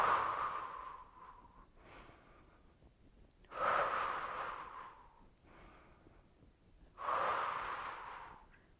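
Heavy, forceful exhales during a Pilates mat core workout: three strong breaths spaced a few seconds apart, close and breathy, each trailing off into a softer rush of air.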